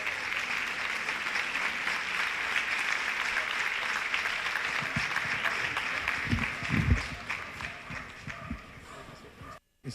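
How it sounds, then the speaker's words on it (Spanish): An audience gives a couple a warm round of applause, a dense, steady clatter of clapping that holds for most of the stretch, then thins into scattered claps and cuts out. "Recibamos con un fuerte aplauso a esta pareja."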